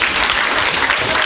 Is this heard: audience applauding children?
yes